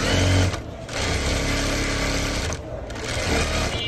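Sewing machine stitching pajama fabric in fast, rapid bursts, with two brief pauses between runs, close and fairly loud.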